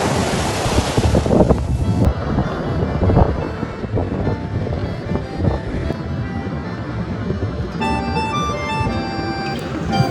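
Surf rolls and crashes steadily at Marawila beach in Sri Lanka while strong wind buffets the microphone with a loud, rushing roar; no one speaks over the constant wash of ocean waves.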